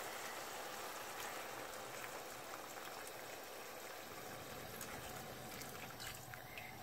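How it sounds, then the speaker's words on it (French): Boiling water poured into a pot of lamb curry, giving a steady, dense hiss and bubbling wash that runs unbroken for the whole stretch, with no one talking. "Là, je vais ajouter 500 ml d'eau bouillante."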